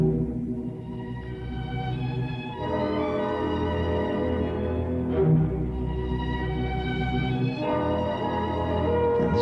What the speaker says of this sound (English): The sound you hear is a sperm whale talking.